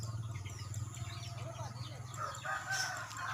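Chickens cluck and crow faintly in the background, with low murmuring voices and a steady hum underneath.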